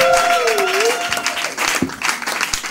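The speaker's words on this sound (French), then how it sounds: "nous pouvons quand même acclamer, applaudir pour le Seigneur" Clapping and cheering from a church congregation at a Christmas midnight worship service, mixed with voices and a wavering sung note early on, the claps thinning toward the end.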